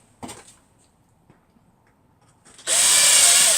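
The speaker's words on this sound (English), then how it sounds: "drill two pilot holes." A power drill whirs steadily and loudly, drilling pilot holes into wood after a few faint knocks and rustles, its high grinding whine continuing to the end.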